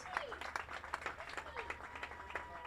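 A round of applause rises for the Homecoming Court candidates at a high school homecoming football game, scattered crowd clapping with irregular peaks, fairly distant and faint, with voices mixed in.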